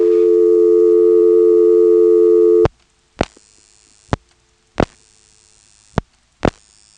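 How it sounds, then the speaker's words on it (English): Step-by-step telephone exchange with directors in the Elizabeth City, North Carolina area in 1977: a steady tone cuts off, followed by five sharp, evenly spaced clicks of switching pulses against near silence. "It seems that deciding what to do makes a pulsing noise."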